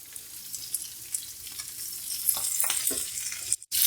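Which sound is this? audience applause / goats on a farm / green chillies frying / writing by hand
green chillies frying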